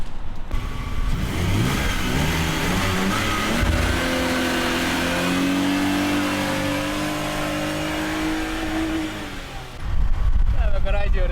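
A 2001 BMW E46 320 with a 2.2 engine and manual gearbox revs up, the engine note climbing steadily and holding, then dropping before a sharp louder burst at the end; nearby and loud, with a voice speaking briefly early on.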